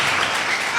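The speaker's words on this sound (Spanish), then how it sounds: "Le damos un fuerte aplauso." A church congregation breaks into applause, a brief, loud wash of clapping heard for under a second, close and dense.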